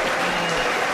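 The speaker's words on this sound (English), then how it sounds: "Sosnowski getting very good applause" Crowd applause at a boxing match in York Hall, a dense, steady wash of clapping from a large indoor audience, loud and continuous for under a second.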